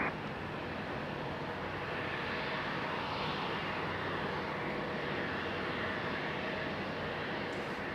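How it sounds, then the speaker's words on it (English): A Boeing 777 airliner taxis at Raleigh-Durham airport, its jet engines giving a steady, broad roar that holds evenly throughout at a moderate distance, with no talk. "777 on the move"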